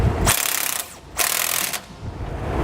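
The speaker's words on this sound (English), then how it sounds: "Now tighten down all of your hardware using 19mm sockets and wrenches." Close mechanical clicking and ratcheting comes from tightening hardware with 19mm sockets and wrenches on a rear anti-sway bar, in short bursts separated by brief pauses.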